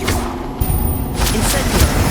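Blast spell Confringo cast in the video game Hogwarts Legacy: a dense, loud burst of booming, crackling impact noise layered over game music and effects, with a few sharp hits standing out through the short stretch.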